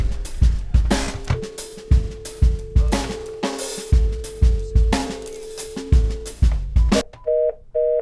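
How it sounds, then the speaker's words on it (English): Telephone dialing out on a call, with a rapid series of close, loud button-press tones and bursts of clatter followed by short repeated electronic tones at the end, no speech. "Got to dial out."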